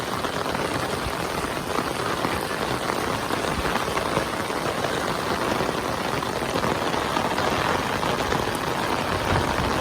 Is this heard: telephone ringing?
no